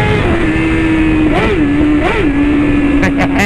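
A Triumph Tiger 800 motorcycle engine drones loudly and steadily close to the mic, its pitch swelling briefly in a few short revs.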